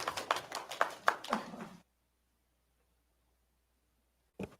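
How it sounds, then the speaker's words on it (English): Audience at a school board meeting clapping in a brief scattered burst of close hand claps that stops abruptly, followed by near silence and a single short sound at the end. "they clap a lot"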